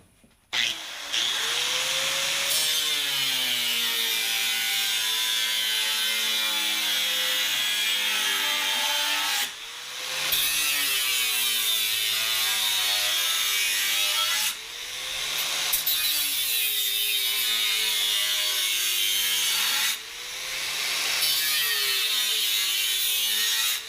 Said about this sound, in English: Just let the weight of the grinder do the cutting and just lay it around it.